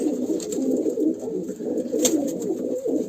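A flock of pigeons coos continuously close by, with layered, overlapping soft rolling calls. No one speaks over them.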